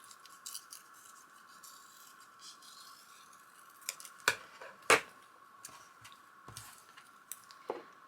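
Scissors snip out paper journaling pieces in a few isolated, quiet cuts at close range, separated by long pauses with steady background hiss between them.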